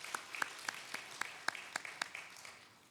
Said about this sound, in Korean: 우리 관리위원회 박수 한번 부탁드립니다.